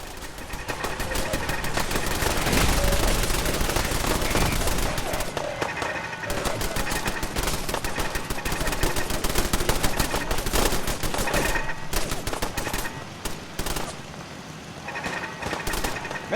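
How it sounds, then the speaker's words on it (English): Automated turrets in Fallout 4 fire rapid, sustained bursts of gunfire at long range over a settlement, a dense rattling barrage that continues almost without pause across the whole stretch. "Amazing thing is how far the turrets shoot. Look, they shoot."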